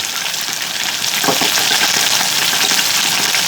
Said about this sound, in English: Now I got me some red chilies going in.